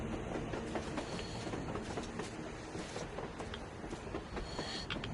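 Rail traffic in Metro Exodus: a train runs on its tracks with a constant low roar, light wheel clatter and occasional thin squeals. It is heard alone at moderate distance.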